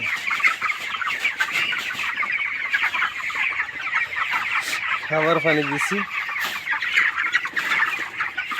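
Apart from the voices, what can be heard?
24-day-old broiler chickens clucking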